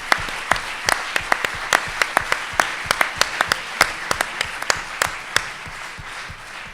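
An audience at an Azione Cattolica gathering applauds in a steady patter of claps, with several sharper, louder claps standing out above the crowd throughout, and no talking.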